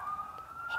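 An emergency vehicle siren wails steadily through a street of wrecked, scrapped cars amid debris, a sustained wavering tone heard at moderate distance with no talk over it.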